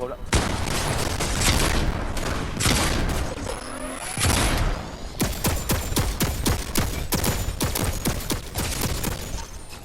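Laser guns fire in a Fortnite match in long, fast volleys of sharp zaps, then a stretch of rapid staccato shots, all loud and close, with players talking at times.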